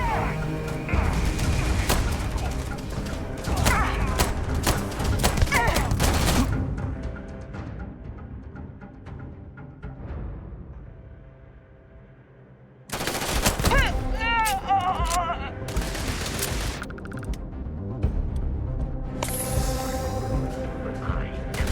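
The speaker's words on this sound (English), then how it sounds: "Enemy fire over here!" Enemy gunfire in the Starfield video game: heavy sustained bursts of automatic fire with booms, dropping into a quieter lull, then erupting again loudly. Voices shout over the shooting at times.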